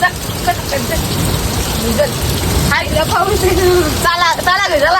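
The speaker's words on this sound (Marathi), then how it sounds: "पाऊस आहे" Steady rain patters across the whole stretch, with children's voices chattering and calling over it, louder toward the end.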